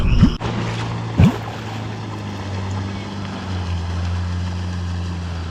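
A motorboat on the Dniester river drones steadily at a distance and slowly grows louder as it approaches, with a couple of sharp bumps and wind noise close to the microphone early on.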